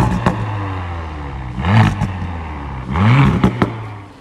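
An Audi SQ5 fitted with an upgraded ABT exhaust system idles with a low, steady drone, then is blipped twice, each rev swelling into a brief throaty rise before settling back; nearby and loud, with no talk.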